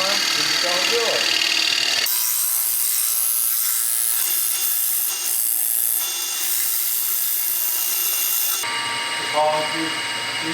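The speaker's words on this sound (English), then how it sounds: "you're using that tool not only to make the chamfer, but also to flatten out the" A woodturning tool cuts a chamfer on a spinning wooden bowl, giving a steady loud hiss and scrape that runs almost without a break, with a brief voice near the start and end.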